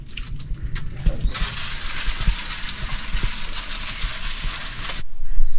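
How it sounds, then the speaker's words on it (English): A hose sprays water onto the roof of a camper van being washed of dirt, a loud continuous hiss that starts abruptly and cuts off near the end, with faint background sounds before it. "started washing all the dirt away from the van"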